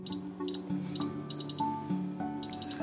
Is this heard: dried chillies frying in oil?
no